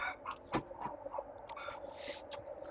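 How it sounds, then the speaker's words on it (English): Agitated chickens in a barn give close, scattered clucks and squawks in quick uneven bursts, fairly faint over a steady background hum. "The chickens are mad."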